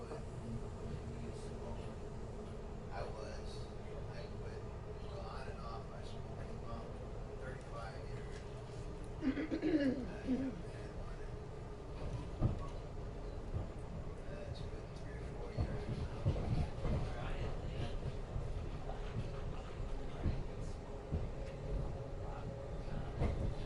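An Amtrak passenger train rolls along, heard from on board as a low, steady rumble with occasional clatter and bumps, while a narrator talks throughout.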